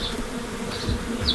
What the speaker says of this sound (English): These are all returning worker bees